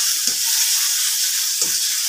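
Onions and garlic sauté in a pan for a home-cooked pork menudo, giving a steady close sizzle with two brief stirring scrapes and no talking.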